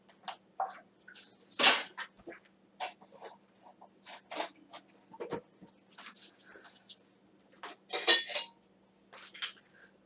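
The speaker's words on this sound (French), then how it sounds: "You add your vinegar to your milk, stir it up once, and let it sit." A spoon stirs vinegar into milk, making soft, scattered clinks and light scrapes against the container at close range, with no voices over them.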